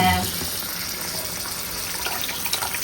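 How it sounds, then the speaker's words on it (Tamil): Tamarind water pours into sautéed masala for a fish curry, a steady gushing, liquid rush close by that starts strongly and carries on evenly, with a faint voice underneath. "மசாலா மசாலாலாம் வதங்கிச்சு அதுக்கு புளி ஊற்றணும்"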